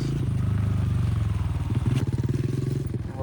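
A dirt bike engine on warm-up laps gives a loud, close, pulsing putter with rapid rhythmic firing and slight rises in revs, along with faint clattering.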